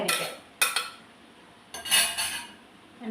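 A pot and metal utensils clink and scrape while a dark herbal hair oil is strained, a few sharp close knocks and rattles separated by quiet gaps.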